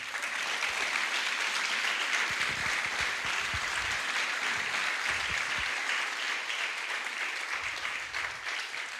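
A church congregation claps together in sustained, dense applause that holds steady at an even level throughout, with no voices standing out above it.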